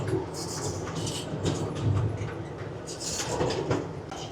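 Rumbling and clattering from a zoo train ride at San Antonio Zoo, with rhythmic knocks and rattles of the cars close by, steady and moderately loud.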